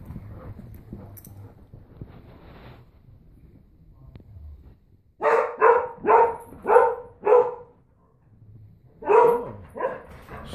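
An excited dog barks in two bursts of rapid, loud, close barks, five in the first run and three in the second, after a quieter stretch of soft sounds and movement.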